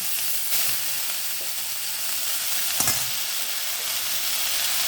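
Red amaranth greens and small diced potatoes sizzle steadily in a frying pan, with a continuous close hiss of hot oil and a couple of brief stirring scrapes.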